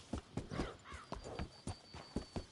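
Horse hooves clip-clop at a steady walking rhythm in the video game Red Dead Redemption 2, near a train station, quiet and close with no talk over them.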